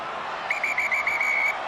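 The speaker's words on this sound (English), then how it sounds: "The whistle goes for the end of the match." A referee's whistle at a Rugby World Cup match between France and Tonga sounds in a rapid trilling burst of several short blasts, shrill and clear over a steady crowd murmur.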